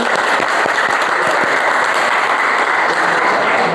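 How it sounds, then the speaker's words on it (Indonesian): Students in a classroom clap together at the end of a lesson, producing steady, loud, dense applause that fills the whole stretch without letup. "Tepuk tangan."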